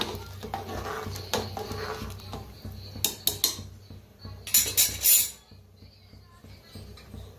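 A spoon stirs sugar into chillies in a metal pot, giving scattered scraping and clinking strokes with a brighter burst of clattering midway, close and moderately loud with no talk.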